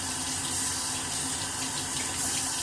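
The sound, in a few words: water running while wetting a shaving brush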